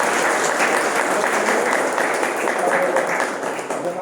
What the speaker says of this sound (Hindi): आप सबों से अनुरोध करते हैं जोरदार तालियों के साथ